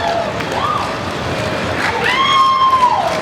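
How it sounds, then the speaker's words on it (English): Crowd cheering and applauding at a Replay FX 2015 costume contest, a steady wash of clapping and shouts with a few whistles rising near the end, fairly loud and close. "Big round of applause for Harlock."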